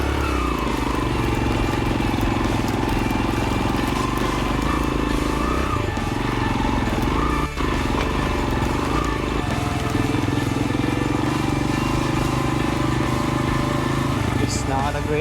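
A Yamaha XTZ 125 motorcycle climbs uphill on a ride in Argentina, its engine droning steadily and close at a constant level throughout, with wind and road noise mixed in.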